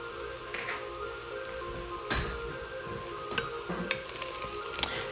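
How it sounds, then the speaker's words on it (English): Basil, oregano and thyme sauté with onions and garlic in a pan, giving a low steady sizzle with light ticking and scattered stirring clicks, fairly quiet and close, with no voices. "let those spices saute for a few seconds"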